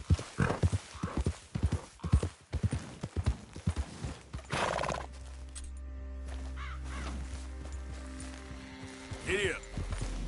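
Horse hooves clip-clopping in the video game Red Dead Redemption 2, a brisk run of close, distinct hoofbeats, then a steady hum with a horse snort and whinny near the end.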